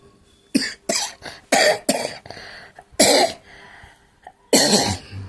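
A run of harsh, close coughs in uneven bursts from a person with a fever and a changed voice, several separated by short pauses, with throat clearing mixed in and no talking.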